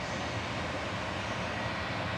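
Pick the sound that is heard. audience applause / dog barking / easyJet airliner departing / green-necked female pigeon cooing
easyJet airliner departing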